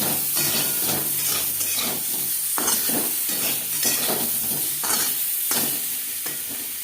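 Potatoes fry with turmeric and salt in a pan for homemade mutton biryani, giving a loud, continuous sizzle and hiss broken by repeated stirring scrapes, with no voices.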